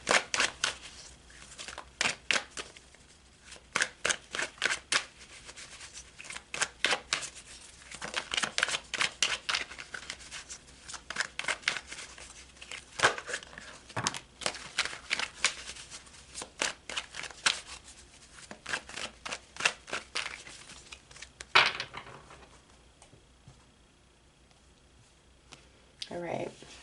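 Tarot cards being shuffled by hand, close and crisp, with bursts of rapid riffling clicks and flutters separated by short pauses, and the shuffling fades out near the end.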